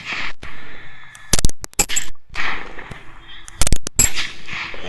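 Gunshots ring out during a feral hog hunt: about four clusters of sharp, loud reports, the first single shot followed by rapid follow-up volleys with short gaps between them, fired close by outdoors.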